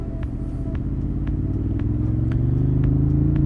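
A Ducati motorcycle rolls through Manhattan city traffic with a loud, close engine rumble that builds steadily, and light clatter ticks along on top.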